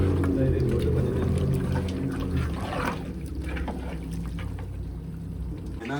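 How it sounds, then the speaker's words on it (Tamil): Water poured into a large pot of mutton biryani being cooked with rice, a steady, close, continuous splashing rush that runs for several seconds with no talk over it. "அதில் ஃபஸ்ட்டு 15 சுண்டு தண்ணியை இதோட ஊற்ற போகிறோம்"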